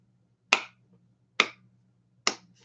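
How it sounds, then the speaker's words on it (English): Three slow, sarcastic claps in a Nancy Pelosi style, evenly spaced and crisp, each a sharp single hit over a quiet room hum, with no talking. "Oh, I'll do the Nancy Pelosi clap"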